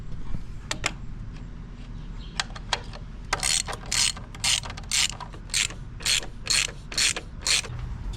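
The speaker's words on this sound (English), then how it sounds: "next we're just going to take these two bolts off and take it all out" Ratchet wrench backing two bolts off the sound generator on a BRZ/FRS/86, with quick clicking ratchet bursts in two bursts of repeated strokes, close and fairly loud in a quiet workspace.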